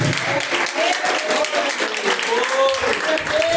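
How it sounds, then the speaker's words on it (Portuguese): Congregation applauding in praise during a live church service, a steady sustained clapping wash over background music with a held tonal line, continuous for several seconds. "Palmas que louvam e engrandece a Deus."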